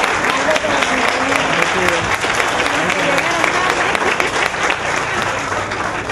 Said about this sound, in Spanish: Un aplauso para los regidores.